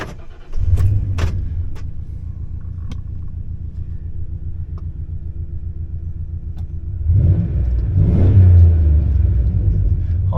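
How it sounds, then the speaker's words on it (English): A restored Ford Ranger truck's 5.0 engine cranks and catches, settling into a steady low idle, then revs up twice with a throaty roar close to the microphone. "I'll go ahead and start it up,"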